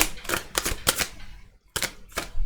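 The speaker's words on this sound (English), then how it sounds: "I'm going to give it one more quick shuffle here." Tarot cards get a quick shuffle: a handful of crisp, papery riffling bursts close up, with a brief pause before two final flicks.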